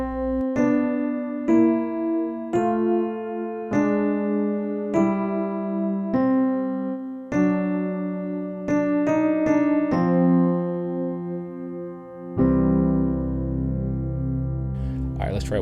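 Piano chords played with both hands, a steady sequence of struck chords and ringing notes, ending in a fuller sustained low chord.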